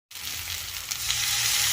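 Vegetables for a rohu fish curry with green banana and drumsticks sizzle in a pan as cumin paste goes in, a sudden loud hiss that holds steady and swells slightly.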